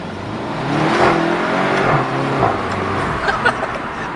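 The exhaust of a VW Golf 7 GTI with a DSG gearbox roars in a loud, close rev that rises and holds. A few crackling pops follow near the end, and no one speaks.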